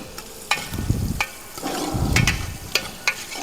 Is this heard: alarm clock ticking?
no